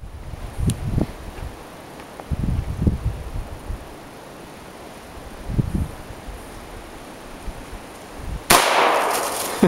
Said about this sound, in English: I'm going to shoot that big bottle.